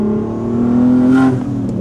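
A turbocharged car engine about thirty years old revs up steadily, its rising hum joined by a turbo whine near the end before the note drops away, heard from close by with no talk.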